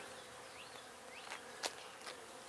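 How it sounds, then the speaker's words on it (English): A steady, dense buzz of many bees swarming in a tree, continuous and fairly quiet, with a couple of faint bird chirps above it. "This whole tree, oh, Mr. Woodpecker, is just buzzing with bees."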